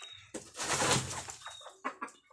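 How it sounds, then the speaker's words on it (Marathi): A pure native desi village rooster among free-ranging hens, with a burst of loud, broad flapping and clucking noise near the start, then softer short calls and rustling fading off. "एकदम गावठी आहे आणि दिसायला पण खूप सुंदर हा असा गावरान कोंबडा आहे।"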